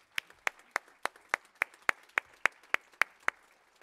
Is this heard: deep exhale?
no